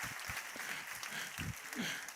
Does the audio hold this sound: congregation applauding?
yes